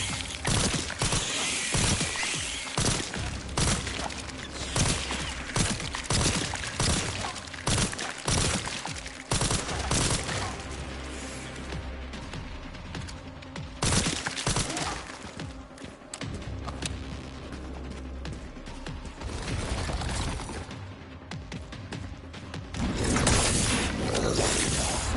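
Rapid bursts of gunfire from a character shooting enemies in Resident Evil Requiem, loud and dense with repeated volleys over roughly 25 seconds, mixed with game effects and no speech.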